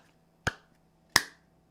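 Two sharp hand claps made on camera to line up audio with the picture, each a crisp close transient with a short decay, spaced about seven tenths of a second apart in a quiet room.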